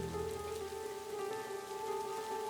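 Steady rain falls through a winter night, a constant, even hiss that fills the whole stretch with no breaks and no voices.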